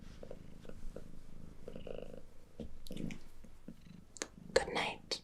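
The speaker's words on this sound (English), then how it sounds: "who was happily purring away" A pet cat named Mishka purrs softly and steadily while sitting on a lap, the low rumble running beneath quiet whispered speech and small rustles.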